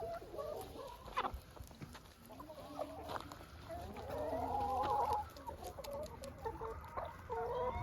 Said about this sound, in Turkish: Bunlar tavuklarımız.